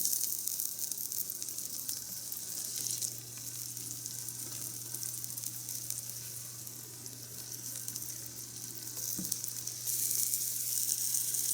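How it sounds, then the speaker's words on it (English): Steady crackling sizzle of potatoes frying on low heat in a pan, constant and moderately close, with no talking. "we're gonna add these potatoes to the pan and just try to get them a little crispy"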